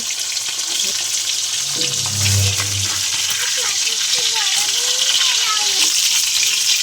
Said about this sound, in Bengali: মাছগুলো ঘুরিয়ে দিচ্ছি, ঘুরিয়ে ভেজে নেব।